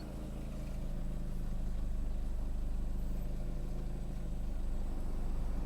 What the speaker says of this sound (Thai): มาฟังเสียงเครื่องยนต์กันดีกว่าครับ เครื่องฟิตตาติดง่ายครับผมคันนี้